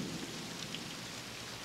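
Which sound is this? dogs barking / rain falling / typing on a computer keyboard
rain falling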